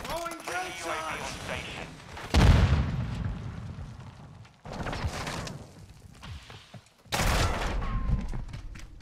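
Grenades going off in a Call of Duty Modern Warfare II team deathmatch on a farm map: two heavy, close booms with rumbling tails, following a stretch of game voice chatter and gunfire noise.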